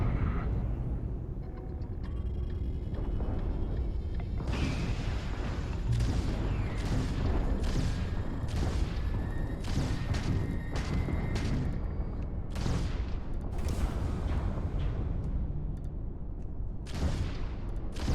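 Spaceship weapons firing and explosions in the Starfield video game, a dense run of repeated sharp blasts and booming impacts over a constant rumbling roar.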